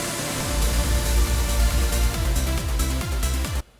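Virtual DJ playback with an echo and reverb effect left engaged through a transition: dense, smeared music with repeating descending bass sweeps and washed-out percussion, loud and continuous before cutting off abruptly near the end.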